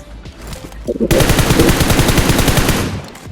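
Rapid bursts of automatic gunfire crackle near a petrol pump in BGMI (PUBG Mobile), starting after a brief lull and continuing loud and sustained to the end.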